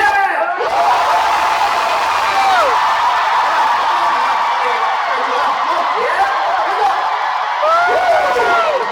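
A concert crowd at a Kingmaker Fest countdown to 2026 cheers and whoops after the countdown ends, a loud, dense roar with shrill rising and falling yells, and scattered clapping mixed in throughout.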